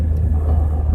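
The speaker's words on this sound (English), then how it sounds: "I'm stuck behind a garbage truck" Deep, constant motor rumble while stuck behind a garbage truck on a Florida road doing emergency collection before a hurricane, heard close and steady with no voices.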